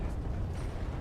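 A mech's cannon shot explodes in the Vox Machinae game as one dense, low rumbling boom that fills the whole second at steady, loud strength.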